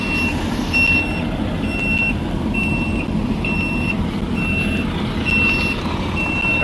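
A semi truck backs its trailer into a parking spot, its reversing alarm beeping in a steady, evenly spaced rhythm over a loud, constant diesel engine rumble nearby.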